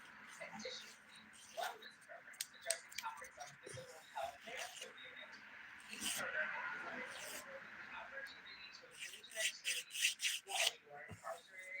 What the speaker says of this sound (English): I'm just filing super gentle because I'm not sure it's completely cured yet.